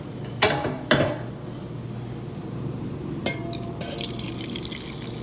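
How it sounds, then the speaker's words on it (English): Water is poured into a tea diffuser holding a tea bag and rosemary snippets in a kitchen, with two sharp clicks of handling before a faint, soft liquid trickle and a few small knocks. "and then you just simply add your water."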